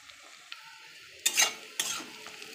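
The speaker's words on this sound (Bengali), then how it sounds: "আমার পেঁয়াজটা ভাজা হয়ে গেছে," Onions frying in a pan for mutton biryani, a faint sizzle broken by two louder scraping stirs and a few light clinks.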